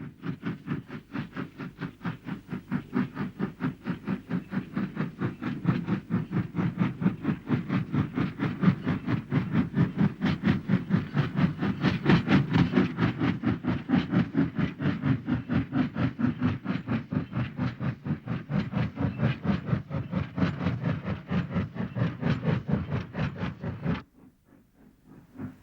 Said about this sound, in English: This long shot of the train weaving its way up the gradient